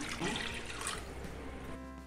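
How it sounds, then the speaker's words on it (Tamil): A tumbler of water is poured into a pan for jaggery syrup while making athirasam, a steady rushing splash that stops abruptly near the end, close and moderately quiet. "ஒரு டம்ளர் தண்ணி ஊற்றிக்கலாம்."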